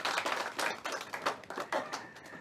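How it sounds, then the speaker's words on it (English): Audience applause at a strategic plan launch event in Uganda, a dense crowd clapping steadily throughout, moderately loud and slightly distant, with no talk over it. "Let's give another round of applause to LCC"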